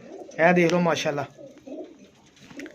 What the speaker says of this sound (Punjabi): ਦੇਖੋ ਕਬੂਤਰ ਹੁਣ ਬੋਲਦਾ